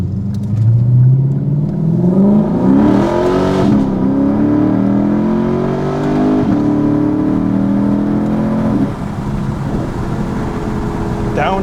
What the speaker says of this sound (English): All right, let's go ahead and hear this car. I'm gonna open it up,